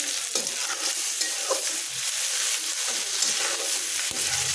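Chopped onion, green and dried chillies, bay leaf, cinnamon and cardamom fry in oil in a pan, giving a steady close sizzle with occasional stirring scrapes.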